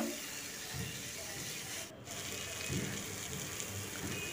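Potatoes with bhindi and spices sizzle and scrape in a pan, a steady frying hiss broken by brief stirring rubs, close and moderately loud.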